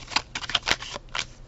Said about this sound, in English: I'll just sit here and shuffle a little bit until our cards come out.